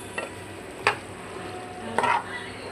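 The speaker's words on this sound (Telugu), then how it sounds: "ఫ్రై అవుతుంది. ఇంకా కొద్దిగా ఫ్రై కావాలి." Chicken curry fries in a pan, giving a soft steady sizzle with a few light stirring scrapes and clinks of a utensil, quiet and close.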